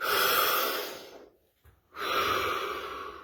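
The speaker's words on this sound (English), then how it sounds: "Deep breath." Two deep breaths, a long inhale and exhale, then a brief near-silent pause before another long drawn breath, close and fairly soft with an airy, rushing quality.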